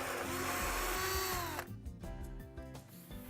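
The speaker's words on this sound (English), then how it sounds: "Use the drill and hole saw to make the holes." A power drill whines steadily with a hole saw biting in, then the pitch drops and the cutting turns choppy and uneven toward the end.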